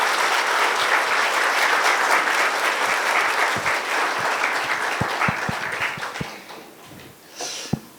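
An audience at a symposium gives sustained applause to welcome a biology professor, a dense wash of clapping that thins out and fades near the end, with a few louder individual claps.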